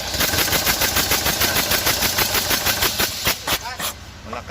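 A Deutz diesel engine runs during an injector misfire test, its rapid, loud, steady knocking clatter filling the space up close before easing slightly near the end.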